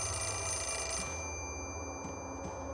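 Telephone ringing in the horror video game Fatal Frame: Mask of the Lunar Eclipse, a steady electronic ring sustained throughout over a low droning game ambience, with no talk.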